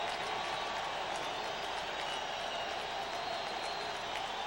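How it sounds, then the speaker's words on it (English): Preseason NFL game crowd at a Raiders–Jets football game in 1996, a broad, continuous roar of cheering and applause from a stadium audience, steady and fairly distant throughout. "Tim Hall leading a few cheers here."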